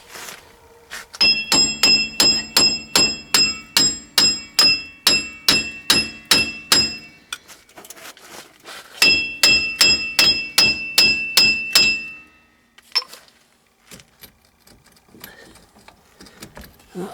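Repeated hammer taps on the rear wheel bearing of an AWD Matrix Vibe, a steady run of sharp metallic ringing strikes, a pause, then a second burst, close and loud, with faint scattered knocks afterward.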